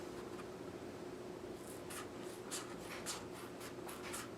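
Scissors free-cutting wing shapes from a folded black foam sheet, a run of faint, short snipping and rasping strokes coming more quickly toward the end, quiet and close over a low steady background hum.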